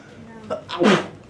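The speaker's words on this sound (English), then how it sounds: "Might be the biggest sneeze I've ever done." A single loud sneeze bursts out close by in a classroom, a short inhaled build-up followed by a sharp explosive release, with a faint room murmur around it.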